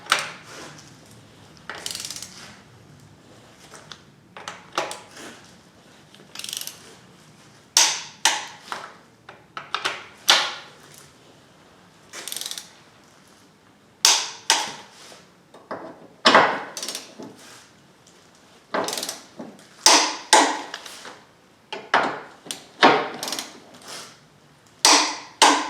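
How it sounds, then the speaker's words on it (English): Engine mount bolts on a 2010 Mazda 3 with the 2.0L engine are tightened with a torque wrench, giving loud, close mechanical clicks and clunks in irregular bursts with short gaps. "Let me get a torque wrench and torque them"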